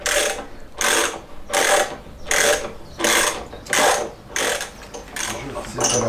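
A ratchet works loose the wheel axle on a motorcycle. It gives about eight rapid clicking bursts in a regular back-and-forth rhythm, loud and close, with short pauses between strokes and no speech.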